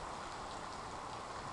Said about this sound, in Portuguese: Tá geladinha a água da chuva.